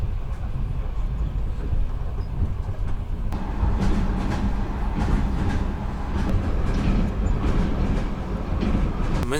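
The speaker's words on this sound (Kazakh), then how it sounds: "Бірінші Тальгомен, енді қазір осындай сәл ескі пойызбен." An older passenger train rolls along steadily inside the carriage, giving a continuous low rumble with rhythmic wheel clatter on the rails throughout.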